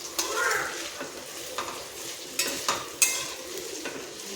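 Capsicum, carrot and tomato sautéed together for veg Schezwan fried rice, a continuous close sizzle punctuated by several sharp spatula scrapes and clinks against the pan at irregular intervals.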